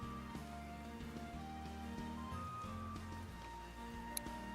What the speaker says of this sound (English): Can't go outside because it's raining.